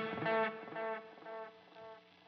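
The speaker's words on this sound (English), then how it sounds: "we can hear the delayed repeats going through the reverb, and they have reverb on them" Guitar notes played through a Line 6 Helix, with delay repeats feeding in series into reverb so each echo is washed in reverb; a few swelling, layered phrases ring out alone, moderately loud.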